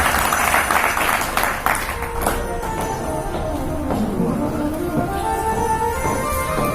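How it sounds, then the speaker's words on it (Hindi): Audience clapping at a Shrimad Bhagwat Katha religious gathering, a short burst of applause that soon gives way to devotional music and singing. "ताली बजा दो"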